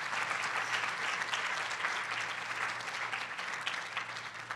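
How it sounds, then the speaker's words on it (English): Steady, dense applause from a conference plenary audience fills the room, holding an even level throughout with no talk over it. "So give yourself a round of applause."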